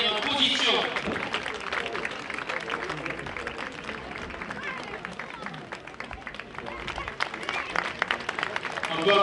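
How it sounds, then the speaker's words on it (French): Crowd applause in a bullring arena honouring prize winners at a Provençal manade celebration, sustained dense clapping with crowd babble throughout, loud and steady for several seconds. "On peut applaudir bien fort les lauréats, tous les participants bien entendu"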